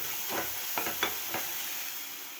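Tomatoes sautéing in a pan for a Tamil Nadu–style egg kuzhambu, a steady soft sizzle with a few faint stirring scrapes of a spoon, close and alone.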